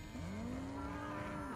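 Cow in Hogwarts Legacy giving a single long, low moo, drawn out over about a second and a half, fairly quiet with no talk over it.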